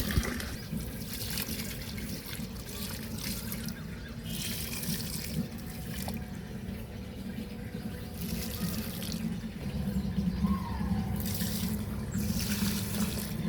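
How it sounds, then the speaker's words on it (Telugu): Garden plants are watered, given a continuous hiss and trickle of running water that splashes steadily and close by throughout, with no voices. "సో ఇప్పుడు మనం చెట్లకి పోద్దాం వాటరు"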